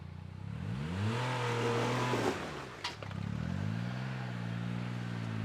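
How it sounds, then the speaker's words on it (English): A Polaris Ranger XD 1500 side-by-side revs its engine hard while climbing over rocks off-road, a loud close roar that rises, dips briefly, then surges again with no talking. "he should rev the motor up and climb right up and over the rocks that he's pointing into"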